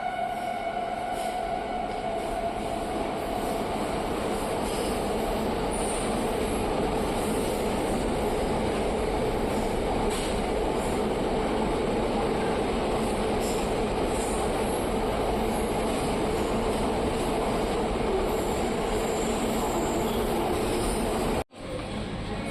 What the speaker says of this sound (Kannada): ಯಾವುದೋ ಟ್ರೈನ್ ಬರ್ತಿದೆ, ಯಾವುದದು ಗೂಡ್ಸ್ ಇರ್ಬೇಕೇನೋ.